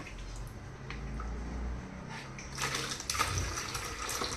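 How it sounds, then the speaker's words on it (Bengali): A small boy splashes and plays in water in a bathtub or tap setting, giving close, irregular sloshes and bursts of splashing over a low running-water hiss, growing livelier toward the end. "জল ঘাটতে যে কি ভালোবাসে এই ছেলেটা"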